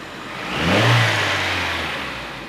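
A Honda Prelude engine idles with a surging, bouncing note, rising in loudness around the one-second mark and then slowly settling as the revs hang and drift.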